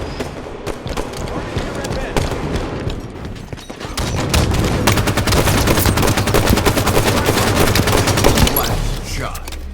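Rapid gunfire from a Halo 5: Guardians Slayer match on the Truth map, with dense bursts of automatic fire that grow louder and more continuous partway through, mixed with in-game voices.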